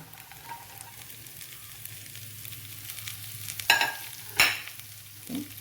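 Beans and carrots tossed into a hot pan and stirred, a soft continuous sizzle broken by two sharp scraping stirs and a fainter third one near the end.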